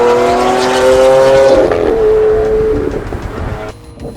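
A Lamborghini on a track roars past with a high, harmonic engine scream that rises and shifts pitch, then fades quickly into the distance, loud and close at first.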